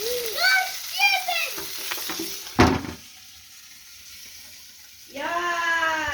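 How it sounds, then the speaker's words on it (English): Steak sizzles on a small, hot barbecue grill with a steady hiss, mixed with tonal, voice-like sounds and a sharp clatter partway through, then a quiet lull before the sizzle and tones return. "So I'm going to get some grill marks on this bad boy"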